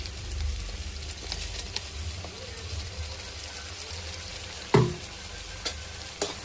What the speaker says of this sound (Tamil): இது நல்லா எண்ணெய் பிரிஞ்சு வர அளவுக்கு இதை நம்ம நல்லா வதக்கணும்